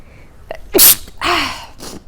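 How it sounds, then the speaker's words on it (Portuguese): A single loud sneeze from a woman with a sharp intake of breath before it, followed by a trailing exhale, close to the listener. "Pera aí que eu vou espirrar."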